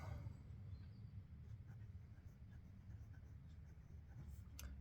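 Jinhao x159 fountain pen nib dragged upside down across paper in reverse writing, producing a faint, continuous scratchy rasp with short stroke breaks.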